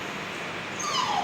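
Pet dog Tyson whimpering to be let up onto the roof, a thin, high whine that rises and slides downward near the end over a faint background hiss.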